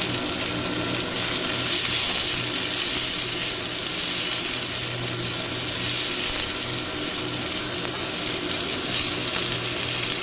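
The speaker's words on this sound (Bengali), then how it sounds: "আমার চিমনি চালিয়ে দিয়েছি তাই একটু নয়েজ আসবে" A kitchen chimney hood fan runs throughout, a loud, steady broadband whoosh with a high hiss, while onions fry for egg bhujia beneath it; no one speaks.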